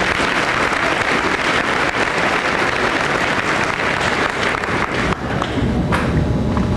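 Audience applause at a school honor awards assembly, a dense steady clapping filling the hall loudly throughout, thinning slightly near the end.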